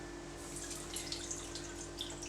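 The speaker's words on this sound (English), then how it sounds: "So if you can now pour off the excess water" Excess soaking water is poured off fermenting polenta, giving a steady close splash and trickle with a constant low hum underneath and no talk.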